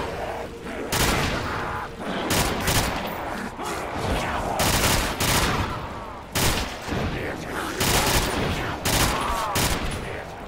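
Rapid video game gunfire fills a custom shooting range map, with dense bursts of loud shots in quick succession and brief pauses between volleys, under faint talk.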